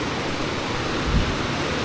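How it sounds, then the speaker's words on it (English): A river in a remote area of the Philippines flows steadily as a broad, continuous rush of water, fairly close and even throughout, with a brief low thump near the middle and no voices. "Sound of the river"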